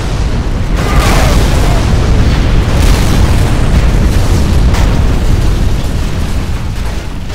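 Massive bomb detonation in the real-time strategy game Rise of the Reds, a loud sustained deep rumbling boom that fills the entire stretch with heavy low roar and debris crackle.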